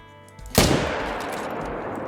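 A single loud rifle gunshot in the video game TheHunter: Call of the Wild, a sharp close crack followed by a long rolling echo that fades slowly.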